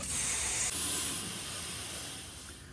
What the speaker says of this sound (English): I'm gonna rinse the panels now.